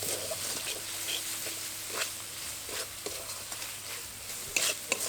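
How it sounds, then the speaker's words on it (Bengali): A spiced tomato masala for an egg masala kaliya is stirred in a pan, giving a soft, steady sizzle with scraping strokes of the spoon and occasional brief clinks, close and moderate in level, with no talking. "খুব ভালোভাবে এবার নেড়ে নেব। যতক্ষণ পর্যন্ত না টমেটোটা একটু নরম হয়ে যাচ্ছে ততক্ষণ পর্যন্ত নেড়ে নেব।"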